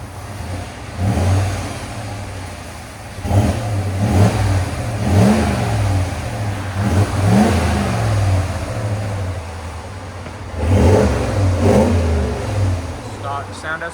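A 2024 RAM 1500 with the 5.7L HEMI V8 and stock exhaust revs several times in short bursts, a close, deep engine drone rising and falling across the clip, with people talking over it.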